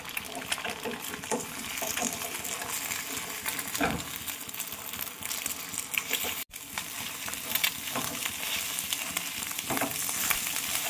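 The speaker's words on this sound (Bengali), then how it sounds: "ডিমটাকে এবার ভালো করে ভেজে নিতে হবে।" Two eggs beaten with a little salt fry in a pan, making a continuous, close crackling sizzle with faint spatter and occasional pan clinks, and no talking.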